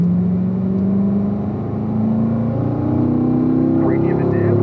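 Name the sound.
car engine while downshifting and cornering on track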